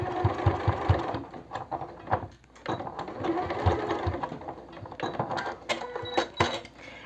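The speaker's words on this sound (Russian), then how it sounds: "потом настрочить отделочную строчку по центру" A domestic sewing machine stitches a finishing seam down the centre of homemade loungewear, quick bursts of rapid mechanical clatter with short pauses between runs, close and moderately loud.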